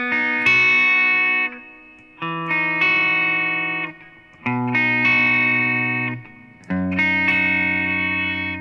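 Distorted electric guitar plays the first guitar part of the bridge of a song, four sustained chords ringing with a chorus-like shimmer, each held about two seconds before the next, played alone.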